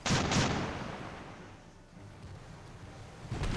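Naval gunfire in the World War II sea battle game Victory at Sea Atlantic as heavy shells strike an enemy ship: booming impacts open the stretch, a rumbling tail fades, and another blast hits near the end.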